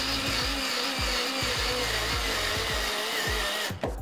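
A cordless electric screwdriver for assembling computers runs at its lowest torque setting, giving a steady whirring motor hum cut by repeated short ratcheting clicks as the clutch slips, close and loud, stopping abruptly near the end.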